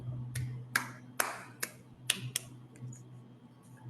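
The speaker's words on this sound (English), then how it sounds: "I cannot resist to clap my hands" One person claps a handful of times during an online medical webinar, the claps sharp but faint and spaced unevenly over a low steady hum.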